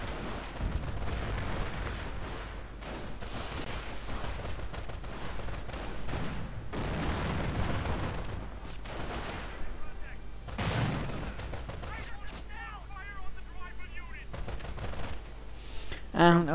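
A World War II strategy game battle with a Panzer IV tank and American infantry: rolling bursts of gunfire and heavy booms recur under a steady din, then thin out toward the end.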